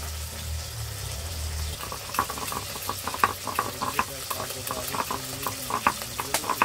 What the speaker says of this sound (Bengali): তেল গরম হয়ে গেছে, এবার মাছ ভেজে নেবো।